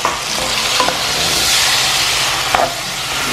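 Chopped tomato and bell pepper dropped into a hot pan with browned residue, sizzling and frying in a steady hiss, with a couple of brief stirring scrapes and no voices.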